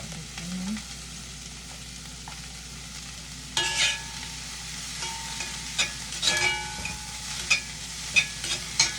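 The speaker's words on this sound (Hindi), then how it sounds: "पहले गाजर और ब्रोकली को डाल देती हूँ" Carrots and broccoli dropped into a hot pan, bringing a sudden loud sizzle after a quiet start that then settles into steady frying with scattered crackles and stirring clatters, close and without talk.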